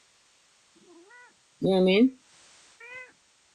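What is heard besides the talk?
pet cat meowing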